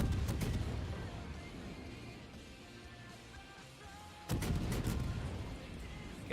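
Heavy naval gunfire from a battleship in World of Warships, a cluster of booming salvos at the start and another burst near the end, with rumbling game noise between them.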